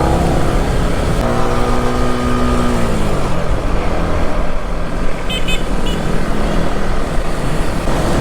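Cars and trucks crawl through flooded, rain-soaked traffic, their engines rumbling continuously amid heavy rain and splashing water. A long horn blast sounds early and then bends down in pitch, while brief, fainter toots follow later.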